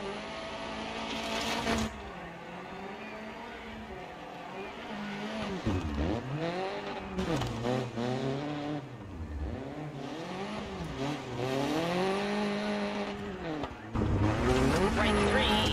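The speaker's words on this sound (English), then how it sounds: "It's hard to stay in the throttle with that car." A rally car from the DiRT racing game revs hard through gears, the engine rising and falling in repeated sweeps with bursts of tire squeal and skidding, loud and continuous throughout.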